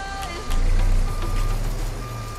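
In American Truck Simulator, a Peterbilt 379 with a Cummins Big Cam engine and a frameless dump trailer reverses. Steady, evenly spaced backup beeps ring out over a low diesel rumble, with faint speech in the background.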